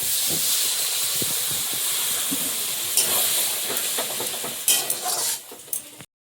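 Water poured into a pan of frying prawns and spice paste sets off a loud, steady steaming hiss that carries on for about six seconds, with scattered clicks and crackles, before dying away abruptly.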